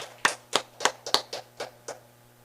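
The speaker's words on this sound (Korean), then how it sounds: "박수로 축하드립니다." Seven or eight sparse, evenly spaced hand claps from a small church congregation, quiet and somewhat distant, with a faint steady hum underneath and no talking.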